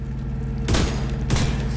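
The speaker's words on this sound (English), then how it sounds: "So let's get this Lefty Shotgun going." Lefty shotgun firing in the video game The Division 2, two heavy booming blasts about half a second apart, loud and close over a steady background game hum.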